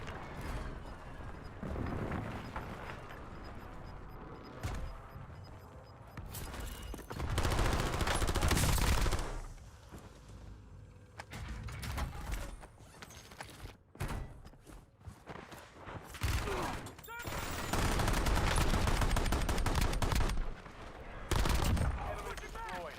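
Heavy automatic gunfire in a shooter video game comes in loud, sustained bursts around the middle and near the end, separated by quieter stretches of game noise.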